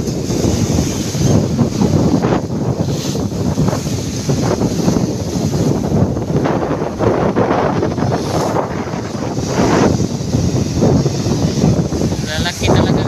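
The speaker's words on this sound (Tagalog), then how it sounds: "Lakas talaga ng hangin mga kaking." Strong monsoon wind batters the microphone on a rough coastline in Isabel, Leyte, roaring continuously with gusty buffeting and possible surf underneath, while someone speaks over it.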